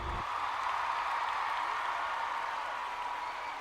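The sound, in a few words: crowd applauding in a standing ovation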